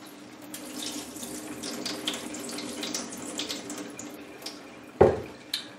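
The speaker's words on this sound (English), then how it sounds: "Just a little bit water running through the pots." Tap water runs steadily through orchid pots holding washed growing media, a continuous splashing trickle that ends in a sharp splash and a brief clatter.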